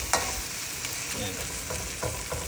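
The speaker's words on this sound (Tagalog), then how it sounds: "Pagluto ng itlog yan, luto na yan." Roughly six eggs frying together in a pan, giving a steady close sizzle with a few sharp clicks and scrapes running throughout, no voices.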